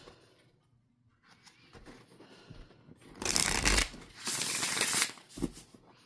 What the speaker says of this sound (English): And I love the way it shuffles.